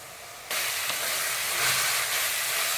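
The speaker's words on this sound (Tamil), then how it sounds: "இப்போ இஞ்சி பூண்டு பேஸ்ட் போட்டுக்கிறேங்க." Ginger garlic paste hits a hot pan of onions for mutton biryani and sizzles into a loud, steady, broadband hiss, close up and continuous, with no one talking.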